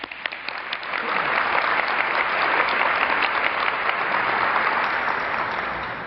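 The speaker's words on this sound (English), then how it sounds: "So a round of applause, please, for Dr." Loud, sustained applause from a large crowd at an Ohio State University vigil, honoring a doctor and the marching band; clapping swells after a second and holds steady before easing slightly at the end.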